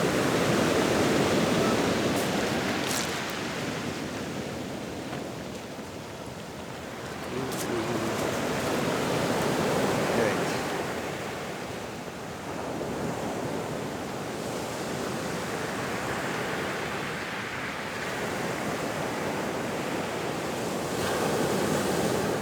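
Steady broadband surf wash rising and falling in slow swells, waves rolling onto Ömerağzı beach in Zonguldak, Turkey, with some wind noise, no voices.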